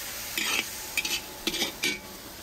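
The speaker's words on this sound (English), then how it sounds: "So, mushrooms and a little bit of salt, and I mix it again to combine it with the oil." Mushrooms with a little salt being stirred through oil in a pan, four or five short scraping strokes close by over a faint steady sizzle, no talking.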